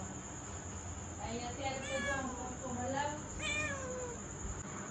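A cat meows for milk in a series of drawn-out, rising cries, three clear calls close by over a quiet indoor hum.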